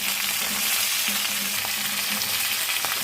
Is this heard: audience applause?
no